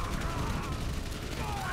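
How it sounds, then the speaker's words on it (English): Dense German gunfire aimed at a trench position in the World War I video game Valiant Hearts, a steady rumbling barrage of shots and blasts with game audio and speech-like sounds mixed over it. "That is a lot of German guns trained on this position."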